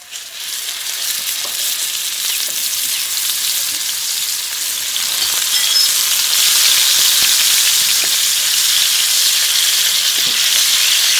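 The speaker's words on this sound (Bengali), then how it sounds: "এখন ফ্রাই প্যানে তেল দিয়ে মাছগুলোকে ভেজে নেব" Pieces of snakehead fish coated in salt and turmeric fry in white oil in a pan, giving a steady, crackling sizzle that grows slightly louder over time, with no talking.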